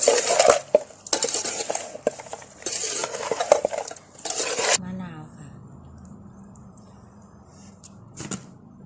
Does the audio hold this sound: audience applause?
no